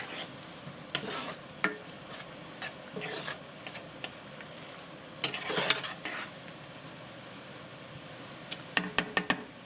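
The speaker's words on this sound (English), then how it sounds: "Mix that around just a little bit." A spoon stirs chicken pot pie filling seasoned with salt, scraping softly in a pot with light sizzling and occasional metallic taps, fairly quiet and unhurried.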